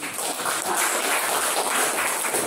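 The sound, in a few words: classroom applause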